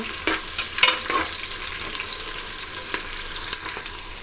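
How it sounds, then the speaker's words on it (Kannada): Onions fry in a pan, a steady soft sizzle close by with a few sharp stirring clicks and spoon taps scattered through, no voices. "ನೋಡಿ ಈ ಥರ ಈರುಳ್ಳಿ ಫ್ರೈ ಮಾಡ್ಕೊಂಡಿರಬೇಕು"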